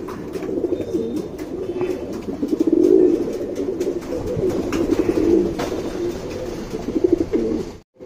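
A pigeon coos close by in a low, throaty, rolling rhythm, with repeated swelling coos running almost without a break for several seconds before a sudden stop.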